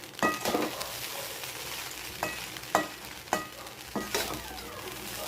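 Red poha upma being stirred and fried with peanuts in a pan, a soft continuous sizzle broken by several sharp scraping clacks of the spoon against the pan at irregular intervals, close and clear with no talking.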